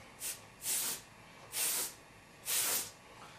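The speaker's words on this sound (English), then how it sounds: "if you lightly spray, you get a really, really cool look there" Airbrush spraying paint in short bursts to create a marble effect, four soft hissing sprays of varying length separated by brief pauses, close and fairly quiet with no talking.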